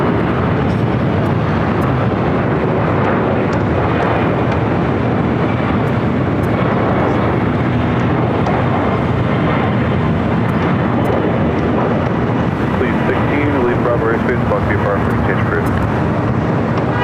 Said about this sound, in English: China Airlines A350 now crossing over to 4 left.